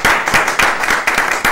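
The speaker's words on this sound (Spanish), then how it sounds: "¡Aplausos!" Studio audience applause on a religious television programme, a brief loud burst of clapping with a pulsing, uneven rhythm lasting under two seconds.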